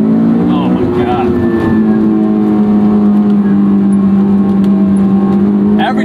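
The engine of a 2004–2005 AP2 Honda S2000 with a cable throttle body drones loudly and steadily from inside the cabin, its pitch rising and falling as the throttle changes, while someone talks over it.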